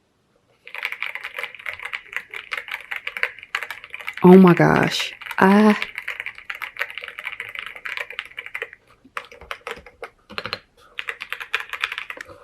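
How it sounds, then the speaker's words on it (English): Someone types quickly on a new light-up computer keyboard, with close, steady clicking of keys that pauses now and then. A loud thump and rustle come midway, and a woman makes a brief exclamation. "So I needed another keyboard"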